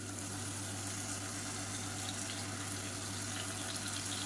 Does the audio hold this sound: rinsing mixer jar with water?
yes